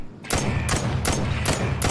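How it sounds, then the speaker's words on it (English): Rifle fire in the video game Lost Light: five loud, close shots spaced at roughly even intervals, each a sharp crack with a booming tail that carries into the next. "That's a big ass rifle."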